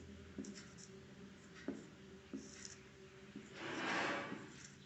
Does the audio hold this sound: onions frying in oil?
no